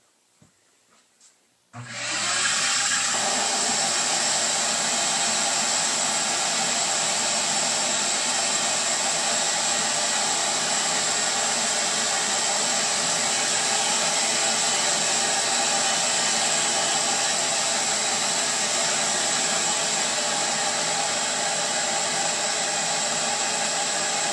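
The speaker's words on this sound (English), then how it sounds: "I'm probably going to let the vacuum run for about a minute or two after this to make sure that the Kydex is nice and cool" A vacuum pump draws Kydex down onto a mold during DIY vacuum forming. After a brief quiet start it switches on to a loud, steady motor roar that holds unchanged to the end, with no talking.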